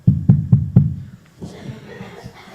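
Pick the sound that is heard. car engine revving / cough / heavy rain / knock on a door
knock on a door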